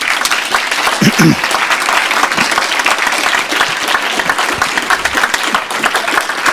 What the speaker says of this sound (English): Let's thank the candidates and give them a round of applause.